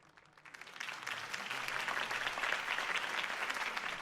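Crowd applause from a political campaign rally scene in the video game Batman: Realm of Shadows, swelling quickly from quiet into a dense, sustained wash of many hands clapping.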